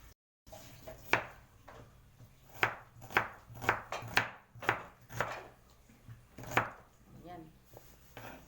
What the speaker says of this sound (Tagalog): Ating sibuyas naman,